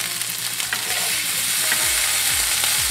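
Asparagus and tomato sizzle on a hot gas grill plate beside swordfish, a loud, dense, continuous crackle close by, with no talking.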